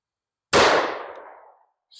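A single sharp report from a 1911 pistol with a 5-inch barrel firing .45 ACP DoubleTap 185gr ammunition, loud and close, with a ringing decay of about a second after silence.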